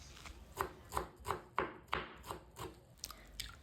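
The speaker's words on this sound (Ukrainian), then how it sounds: "Беру пучок петрушки 30 г та нарізаю дрібненько." A knife finely chops a bunch of parsley on a cutting board, about ten crisp, evenly spaced strokes in a steady rhythm, close and fairly quiet.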